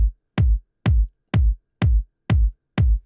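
Layered kick drum, a main kick blended with a disco house mid kick, struck seven times at a steady pace; each hit is loud and booming with a long sustained low body, alone with no other sound.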